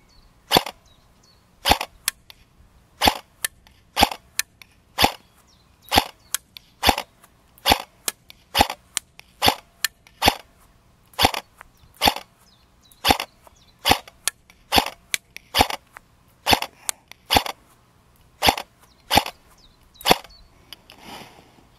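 An AKM13 rifle from BO Manufacture fires steady single shots at a 30-metre range, about twenty crisp cracks at a regular pace of roughly one per second, close and clear with no voices between shots.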